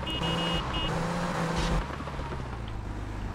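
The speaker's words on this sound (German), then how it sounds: "Man hört den Motor, der dreht völlig durch." A sports car engine in Grand Theft Auto: Vice City roars and revs hard at high pitch, a strained continuous whine that drops off partway through, with synthetic game-like tones.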